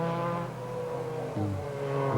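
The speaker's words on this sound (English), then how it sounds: "A V6, 4 overhead cam, non-turbocharged 300 horsepower engine" A deep V6 engine note from an MG Metro 6R4 rally car (mid-mounted, four-cam, non-turbo, 300 horsepower) rumbles steadily at a circuit race, dipping and rising in pitch once as if revving, close and moderately loud.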